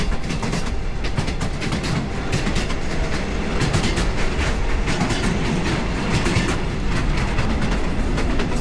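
A Mombasa commuter train rumbles steadily along the rails with rhythmic clickety-clack of wheels, loud and continuous as it rolls through a curve.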